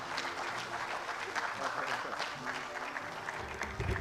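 Audience applause at a memorial lecture hall event, a steady, moderately distant wash of clapping that holds throughout and swells slightly toward the end.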